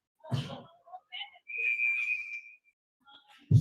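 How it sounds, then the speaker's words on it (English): A referee's whistle sounds in the first period of a high school ice hockey game, as one sustained shrill blast of about a second with shorter chirps around it. Brief bursts of voice and rink noise come before and after. "Got a whistle here."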